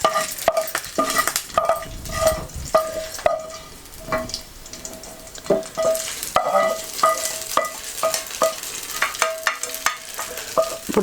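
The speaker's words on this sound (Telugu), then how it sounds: "సో ఇది వేగిపోయింది ఈ చట్నీలో కలిపేసుకుంటాం ఇప్పుడు" Eggplant just fried in oil is stirred and folded into a curd-based chutney, with repeated scraping strokes and clinks of a spoon against the pan over a faint sizzle, close and steady with no talking.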